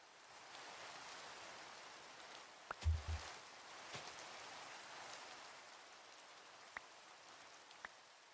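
Steady rain in the Minecraft video game, a soft even hiss of falling drops with a few faint ticks and a low thump partway through, no voices.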